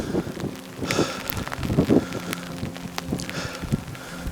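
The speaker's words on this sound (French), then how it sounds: "Il y a un peu de vent, c'est dommage." Wind buffets the microphone outdoors at an abbey, a steady rumbling roar with gusty swells and soft rustling throughout, no voices.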